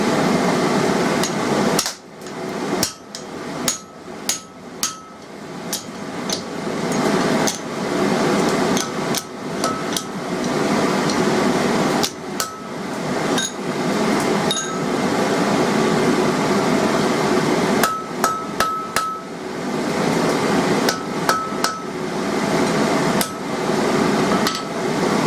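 Hammer forging blacksmith tongs, drawing out and punching the reins: loud, sharp metallic strikes in irregular bursts and rapid runs, ringing over a constant background hum.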